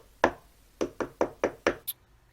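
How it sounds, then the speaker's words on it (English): Knocking at a door, six sharp knocks, one on its own and then five in a quick, even series, close and clear in a quiet room. "He knocked at the door."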